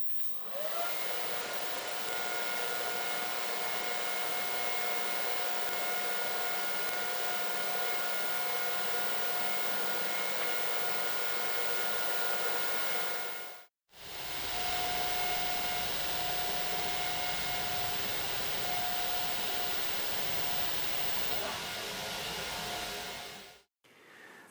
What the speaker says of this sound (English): I can do the finish welding.